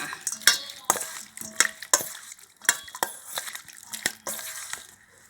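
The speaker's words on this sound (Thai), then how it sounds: "แล้วก็คนทุกอย่างให้เข้ากันเลยนะคะ คนเขาให้เข้ากันค่ะ" A Thai salad of featherback fish balls, spring onion and celery is mixed with a utensil, making repeated close scraping and clinking strokes at a quick, uneven rhythm.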